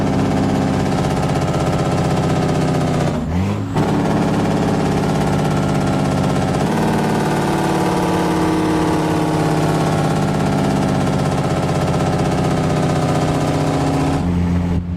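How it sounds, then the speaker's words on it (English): A heavy truck engine idles in American Truck Simulator with a loud, steady low rumble and vibration, briefly changing pitch once early on before settling back into a constant drone. "I love that engine sound"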